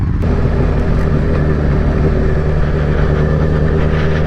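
A motorcycle engine rumbles continuously and loudly, a steady low drone while the bike is ridden off-road on a road trip even though it is not built for off-roading.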